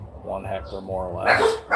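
Dogs at a rural home in the provinces bark and yip in short bursts, close by, mixed with someone talking over them.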